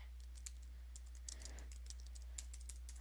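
Quick, uneven keystrokes on a computer keyboard as a file name is typed, close and fairly light over a steady low hum, with no talking.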